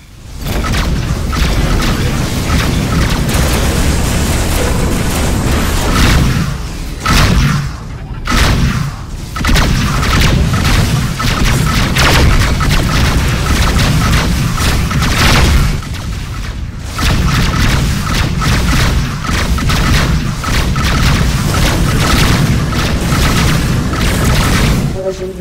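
Loud, continuous barrage of booming missile explosions in the space combat game Rebel Galaxy, dense rumbling impacts with brief lulls around a few dips, under an announcer-style voice at times.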